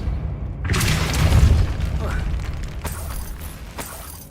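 A Depulso force spell is cast in Hogwarts Legacy, making a heavy booming burst with rumbling, crackling debris that fades into scattered clatters and smaller impacts.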